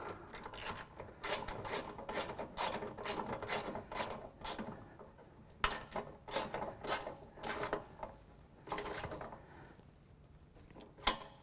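A wrench tightening a nut on a lock washer while installing ICI Magnum RT steps on a 2015 Jeep JK: steady, rapid ratcheting clicks in bursts, fairly quiet and close, with no talking.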